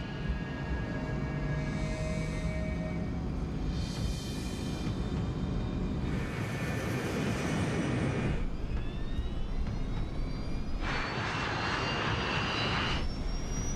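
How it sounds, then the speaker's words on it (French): An Arrow Air DC-8 jet accelerating down the runway at Gander for takeoff, a loud continuous engine roar with rising whine and surging broadband rush, steady and close throughout. "Le DC-8 accélère pour atteindre sa vitesse de décollage."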